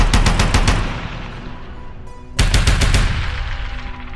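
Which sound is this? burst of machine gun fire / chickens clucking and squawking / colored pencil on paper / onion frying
burst of machine gun fire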